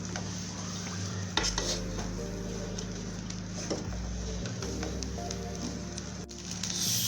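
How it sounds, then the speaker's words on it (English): Nigerian basmati fried rice stirred in a pot, a spoon scraping and clinking against the metal in an irregular rhythm over a steady low hum, close and moderately quiet with no talk. "I'm going to pour all of this goodness in and then stir it well."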